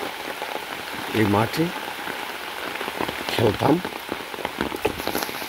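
Rain falls steadily on an open village field in Niteshwar, Bangladesh, a soft continuous patter spread across the whole scene, while people talk over it in Bengali.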